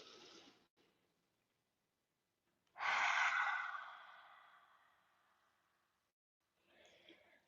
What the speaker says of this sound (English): Let's take one more round of breath.